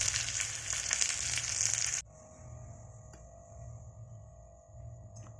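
Hot oil tempering with curry leaves hisses loudly as it is poured into a Kerala-style mackerel fish curry, a harsh two-second sizzle that drops abruptly to a faint steady bubbling.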